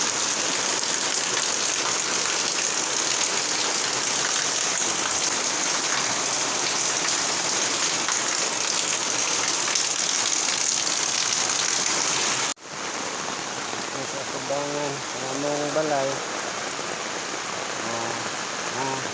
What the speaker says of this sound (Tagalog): Lantaw dere sa kakusog sa ulan.